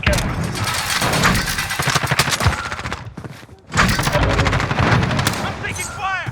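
Dense bursts of rapid automatic gunfire and heavy shots in a shooter video game, loud and close, with a brief lull before the firing resumes, mixed with voices and game effects.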